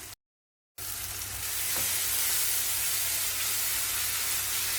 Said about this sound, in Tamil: எண்ணெய் பிரிஞ்சு வர்ற வரை ரெண்டு நிமிஷம் வதக்கலாம் இடையில் கிளறி விடணும்